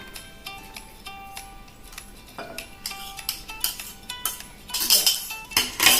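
A metal spoon clinks and scrapes against a bowl while mixing macaroni into curd for a raita, with irregular taps that grow louder and quicker near the end.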